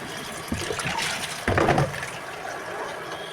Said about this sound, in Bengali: এই তো মাংসগুলো ধুয়ে রাখছি